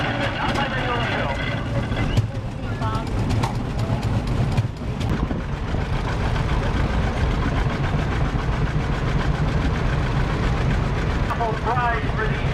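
A 1953 Ford Golden Jubilee tractor rumbles along in a small-town tractor parade, its engine running steadily and loudly throughout while someone talks over a public address.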